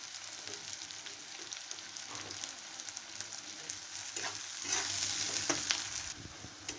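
Onions and slit green chilies fry in a pan for a fish-head rice dish, making a soft, steady sizzle with faint stirring clinks and a slight swell toward the end.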